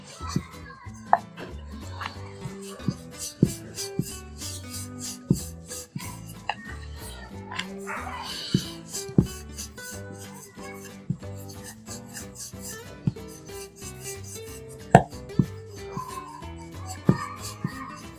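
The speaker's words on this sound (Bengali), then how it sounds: "পাতলা করে একটা রুটি বেলে নেব" Thin nimki dough being rolled out with a rolling pin on a board, a soft repeated rubbing and rasping with scattered light knocks, close and fairly quiet, with faint voices and background sounds beneath.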